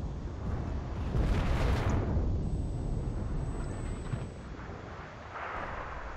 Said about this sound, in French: il a allumé la bombe là